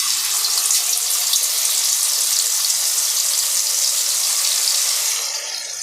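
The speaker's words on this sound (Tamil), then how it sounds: "சிம்மிலேயே வச்சு இதை நல்லா நம்ம ஃப்ரை பண்ணலாம்" Anchovies (nethili) frying in hot oil in a kadai over a low flame give off a loud, steady hiss and crackle that holds throughout, then eases slightly at the end.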